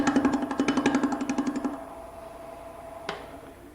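A woodturning tool rounds the back of a wooden furniture leg on a lathe, giving a rapid, even chatter of close cuts for under two seconds. The cutting stops into quiet hum, with one sharp tap later.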